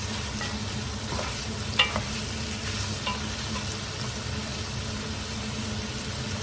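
Pork and shrimp fry in a pan for an ampalaya dish, a continuous close sizzle with a few clinks and scrapes of stirring, no talking over it.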